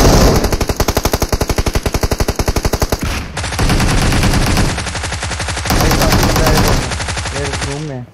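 Rapid bursts of Tommy gun fire in the battle royale game PUBG, a loud, steady stream of shots for about three seconds, then denser sustained automatic fire with layered gunshots, very close and dominant.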